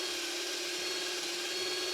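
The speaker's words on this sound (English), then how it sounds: "I could just get my drill in and I can do the 2 inner ports." A drill whines steadily while cleaning the inner engine ports of a Land Rover Series 2A, a continuous high-pitched buzzing grind that holds level from start to finish with no voices.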